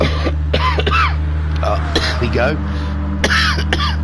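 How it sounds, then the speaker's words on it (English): A man coughs and clears his throat several times, close to a microphone in a racing commentary setup, with a steady low hum underneath and a brief spoken phrase between the coughs. "Decided to wait until I turn the mic on to start coughing."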